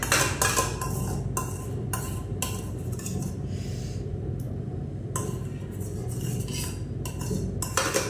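Ghee melting in a pan while a utensil stirs and scrapes against the metal, giving repeated clinks and scraping strokes in an irregular rhythm over a steady low background, close by.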